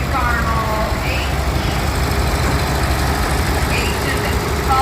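A Farmall H tractor driving past at a Minnesota threshing show, a steady low engine rumble close by, partly under a public-address voice.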